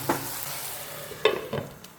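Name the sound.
stirring tomato, onion, ginger and garlic masala in a pan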